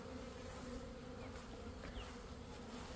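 A ten-pound honey bee swarm hums in a dense, continuous buzz up close, with individual bees whizzing past over the steady drone and no talk.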